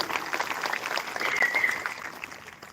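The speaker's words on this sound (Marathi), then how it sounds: "त्यांच्या सभेचा सुद्धा टाळ्या वाजून स्वागत केलं पाहिजे" An audience claps in welcome at a live devotional palkhi gathering for Balumama, a steady spread of hand claps continuing throughout, moderately distant, with no speech over it.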